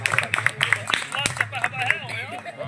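An audience at a gathering of YouTubers claps steadily, the close, rapid claps blending into continuous applause while voices talk and call out over it.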